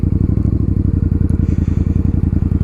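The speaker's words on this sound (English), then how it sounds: "Oh my god, the broken glass." A motorcycle rolls over a road littered with broken glass, its steady engine pulse throbbing close and loud beneath faint crunching and scraping from the tires.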